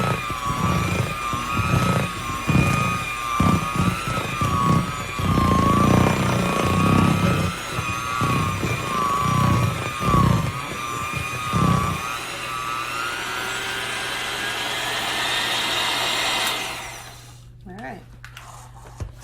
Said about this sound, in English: And then last little bit of mixing this together.